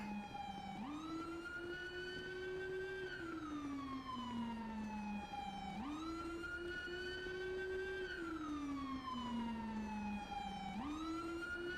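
A police trooper car's siren wails in a roleplay video game, sweeping slowly up and down in about three long cycles. The tone is steady and clear, with no talking over it.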